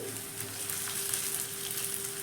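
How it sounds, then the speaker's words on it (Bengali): Spicy pumpkin fritters fry in shallow oil, a soft, even sizzle heard up close with faint crackles and no voices. "আর দেখো এক সাইড হালকা ভাজা হয়ে গেছে আমি কিন্তু বড়াগুলোকে উল্টে দিচ্ছি"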